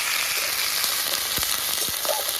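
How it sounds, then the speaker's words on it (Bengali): Ginger and garlic paste fries with onions in hot oil, making a dense, loud, steady sizzle with a couple of soft stirring knocks, and no voices. "তার সাথে আদা বাটা, রসুন বাটা অ্যাড করলাম"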